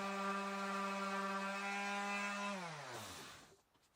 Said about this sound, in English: I'm going to come in with my random orbital sander and smooth that out quite a bit.